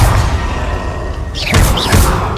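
A Confringo blasting spell strikes in Hogwarts Legacy, giving a dense rumbling impact with thuds and whooshing bursts of magic, loud and close, with a second surge of crackling energy near the end.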